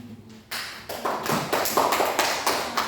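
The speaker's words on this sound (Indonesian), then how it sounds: "Kita berikan aplaus untuk kelompok 2." A classroom of students applauding group 2 after its presentation, a burst of close, uneven clapping that starts abruptly and carries on steadily.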